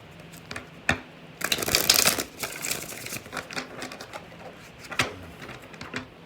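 Crisp riffling tarot card shuffles, a few quick bursts followed by one long dense ripple, close and fairly loud with soft handling sounds between.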